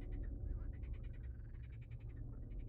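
Frogs in the video game Project 13 croak in a fast run of rhythmic pulses, faint and steady over a low rumbling ambience, with no talking.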